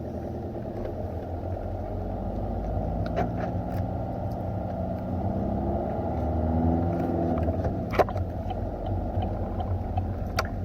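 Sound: car engine running as the car pulls onto the road

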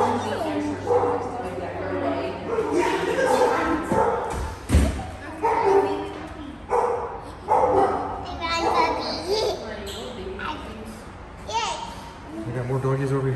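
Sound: dog barking

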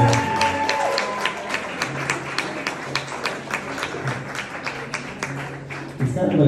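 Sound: audience applause for Lisa

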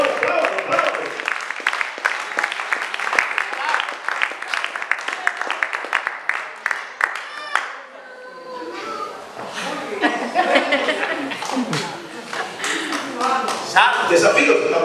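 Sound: clapping during a church sermon

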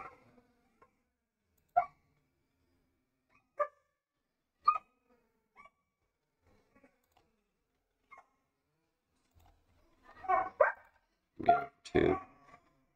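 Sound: dogs barking

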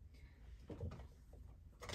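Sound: drawer being opened or closed

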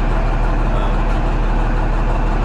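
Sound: Allis Chalmers 7045 tractor engine idling

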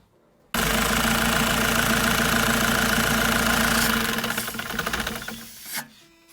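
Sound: Bogdan bus engine running during turbocharger replacement

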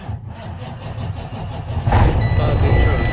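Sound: truck engine starting and idling

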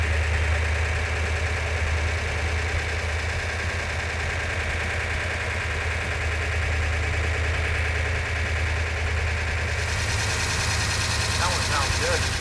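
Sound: restored car engine running

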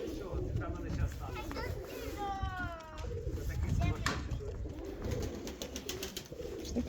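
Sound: pigeons cooing

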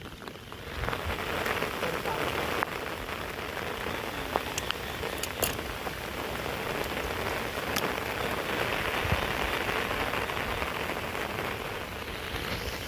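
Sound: heavy rain falling

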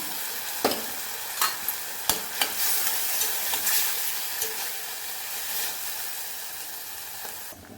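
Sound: chana dal and snake gourd frying in pan

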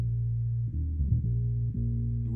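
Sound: bass synth line

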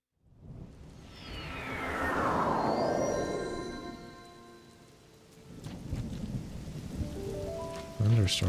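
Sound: thunderstorm rain in Zelda Tears of the Kingdom video game

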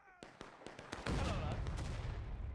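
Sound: cannon firing in the video game War of Rights

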